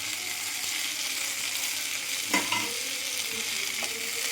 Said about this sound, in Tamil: தக்காளி போடுறாங்க நேயர்களே, கலக்குறாங்க.